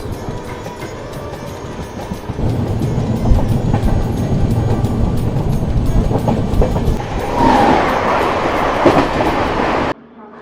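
Double Decker Express train at Jaipur Junction, a steady loud rumble of rolling wagons with clickety-clack from the wheels, growing harsher and brighter near the end before cutting off abruptly.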